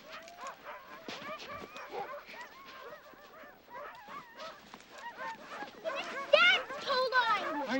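A team of sled dogs, readied for a race, barks, yips and whimpers in a restless, overlapping chorus close by. The pitch rises into sharper, louder yelps toward the end.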